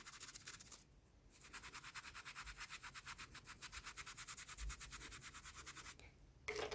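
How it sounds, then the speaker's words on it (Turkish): A brush scrubs the sole of a white sneaker in quick, rhythmic back-and-forth strokes for several seconds, close and fairly quiet, with a short pause partway through. "Yine küçük bir alanı iyice fırçalayacağım"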